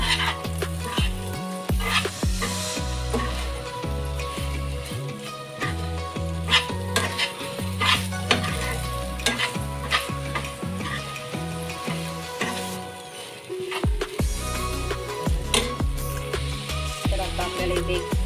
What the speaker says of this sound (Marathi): चांगलं मिक्स करून घेऊया, जेणेकरून आपला जो बेसन आहे तो चांगलं चिटकणार भेंडी आणि